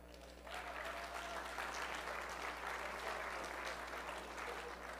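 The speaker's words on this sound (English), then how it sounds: "It was kind of like a golf clap" Light, scattered golf-clap applause from a small crowd honoring a third-place finisher at an awards announcement, steady and moderately distant for about five seconds.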